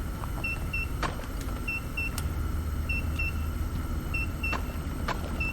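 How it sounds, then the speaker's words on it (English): Short electronic beeps from a machine in the game Mine Mogul come in repeated pairs at a steady pace, fairly quiet, over a low mechanical rumble and occasional clicks. "There's that beeping."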